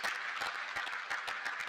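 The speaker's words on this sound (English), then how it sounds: "I'd like that we celebrate them again with another round of applause, please." Legislators in a parliamentary chamber give a round of applause for former presiding officers, a short burst of steady, moderately faint clapping from many hands.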